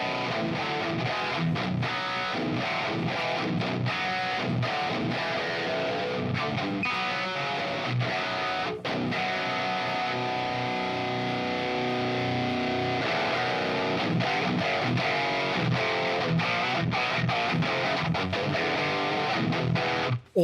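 Heavily distorted electric guitar chugs through a 5150 amp simulator in loud, dense, continuous palm-muted riffing that fills the whole stretch with no talking.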